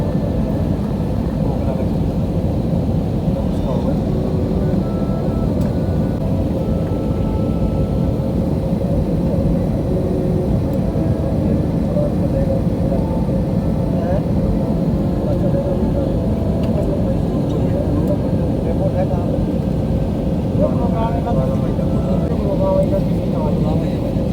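Passenger airliner approaching to land, heard from inside the cabin as a loud, steady, low engine roar that fills the whole stretch without letting up.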